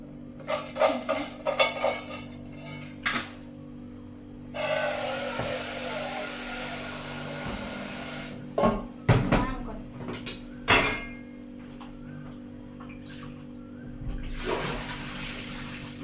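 Glasses, dishes and cutlery washed under running water, with intermittent clinks and knocks of tableware against a steady splash of water flowing nearby, moderately loud with pauses.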